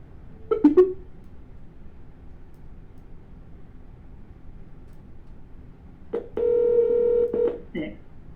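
Telephone keypad dialing, a short cluster of quick DTMF beeps followed after a pause by a longer, louder series of tones and a final brief beep, with a person speaking at moments.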